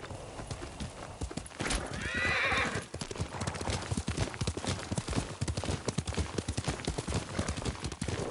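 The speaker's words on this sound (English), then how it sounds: "Yuriko's horse." Horse in the video game Ghost of Tsushima, hooves clip-clopping steadily and close throughout, with a loud whinnying neigh rising over them early on.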